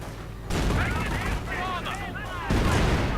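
Mortar and gunfire in a World War II strategy game battle with a mortar half-track, StuG and Hetzer, heard as a dense, continuous rumble of booms and shots with brief whistling rounds, under a commentator's voice.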